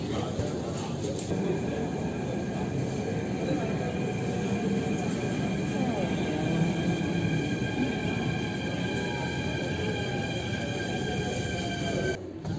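Delhi Metro Violet Line train at a station, a continuous close rumble of the moving train with steady whining electric tones and faint wheel squeal, loud and unbroken.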